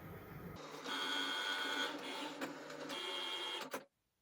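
A Cricut cutting machine cuts a face mask pattern, giving a steady mechanical whir with whining tones and brief pauses, fairly close and continuous until it stops abruptly near the end.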